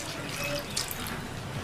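Water is poured into a cooking pot holding a drumstick masala mixture, a steady splashing trickle that runs close and unbroken for the whole moment.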